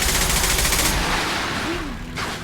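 Gunfire from a Mass Effect 2 firefight, dense bursts of shots crackling loudly for the first second, then thinning into a steady background clatter with a faint voice underneath.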